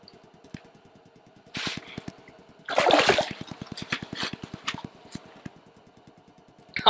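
A few splashes and sloshing as a lake trout is released into water, one bigger splash in the middle, with rhythmic mechanical ticking underneath.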